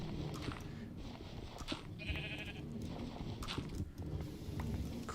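Sheep in the video game Minecraft bleat faintly over a busy game backdrop, a few short baaing calls mixed with hoof-like clopping, no talk heard.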